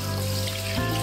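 Two glasses of water poured into a cooking pot of mutton with bay leaves, a steady close splashing rush with a low stove hum beneath, lasting about a second.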